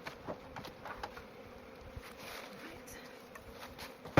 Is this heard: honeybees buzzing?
yes